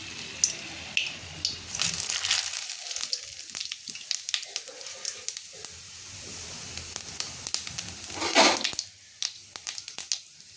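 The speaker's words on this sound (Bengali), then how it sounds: "আমার তেলটা গরম হয়ে গেছে বন্ধুরা। এর মধ্যে আমি এবারে গোটা গরম মশলা কটা দিয়ে দেবো।" Whole garam masala spices hit hot oil, giving a busy sizzle and crackle with scattered sharp pops and a loud burst of spitting near the end.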